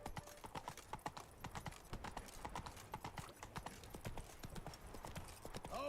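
Hooves of Roach, Geralt's horse in The Witcher 3: Wild Hunt (Blood and Wine), clatter in a fast, steady galloping clip-clop, close and loud over a busy fair-like background with faint voices.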